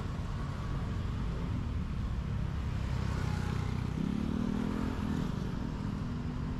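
A motorcycle engine near Evans Gate drones steadily close by, with a rising tonal whine toward the end as it passes amid traffic noise.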